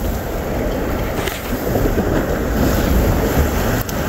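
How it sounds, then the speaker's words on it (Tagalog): Strong wind buffets the microphone in a steady roar over sea and wave wash aboard a small fishing boat rigged with rod and reel for barracuda, continuous and loud with no voices. "Malakas hangin."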